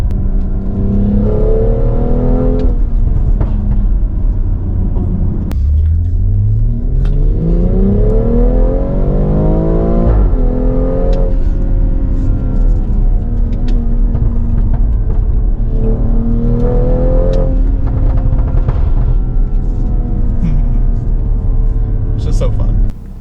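A tuned BMW X3 M40i revs hard through its exhaust, engine tone sweeping up and down repeatedly with sharp crackles and pops, loud and close throughout, while a person talks over it.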